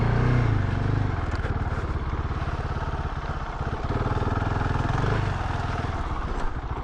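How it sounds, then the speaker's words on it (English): A Husqvarna 701 Enduro dirt bike roars loud and close as it rides off-road, its single-cylinder engine droning steadily under throttle. "Proper dirt bike."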